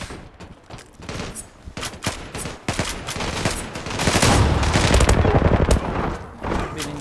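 Rapid bursts of video game gunfire from a shooter match crack close and loud, building into dense overlapping volleys in the middle before easing off, with faint voice traces underneath.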